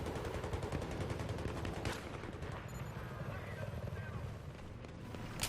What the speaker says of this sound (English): I get a kill here with my gun, which is the M4A1.